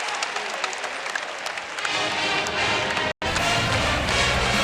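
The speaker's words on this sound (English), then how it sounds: "And this crowd at Gill Coliseum enjoying this." Basketball crowd at Gill Coliseum during an Arizona vs Oregon State game, a loud, steady roar of cheering and applause filling the arena, briefly cut off before resuming.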